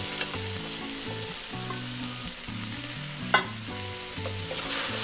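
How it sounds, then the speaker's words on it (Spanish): Onion fries in the aderezo for fish escabeche, giving a steady close sizzle with a few stirring scrapes and one sharp clack, while faint background music plays. "A este aderezo ponemos la cebolla."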